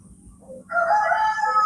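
A rooster crows in a farm chicken pen, one loud, close, drawn-out call that rises sharply after a brief low clucking lead-in.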